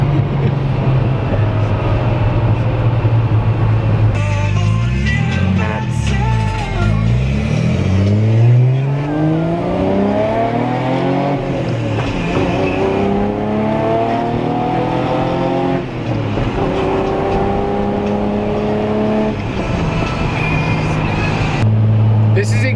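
A Datsun 280Z driven hard, its engine loud and revving through rising and falling gear pulls with repeated upshifts, continuous and close throughout, with people talking over it at times.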